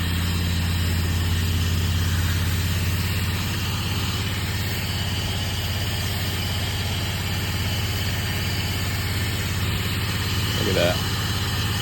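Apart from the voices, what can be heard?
pressure washer machine engine running throttled down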